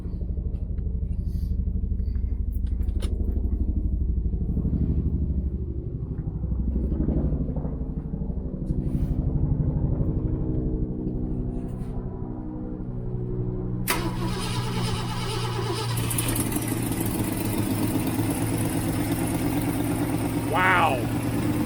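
A rebuilt 390 V8 in a 1967 Ford Mustang cranks and fires, then settles into a loud, rough running idle with the choke wide open, close by, with a person speaking briefly.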